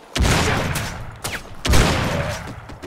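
Explosions and gunfire in the 2007 PC shooter Crysis, two loud booming blasts roughly a second and a half apart, each followed by a crackling rumble and scattered shots, with no talking.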